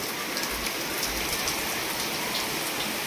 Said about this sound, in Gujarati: વરસાદ વધ્યો નહીં કેટલો વધ્યો